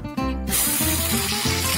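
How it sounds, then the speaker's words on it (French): Waffle-cone batter mixture poured into a cone-making machine, a short tonal mechanical hum giving way to a loud sustained hissing, sizzling spray as it hits the hot plates. "Maintenant, je verse tout dans la machine."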